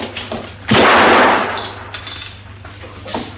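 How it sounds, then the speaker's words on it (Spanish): A single loud gunshot bursts out close by during a hostage scene, its blast trailing off over about a second amid background noise. "Se me ha disparado y ni me ha rozado."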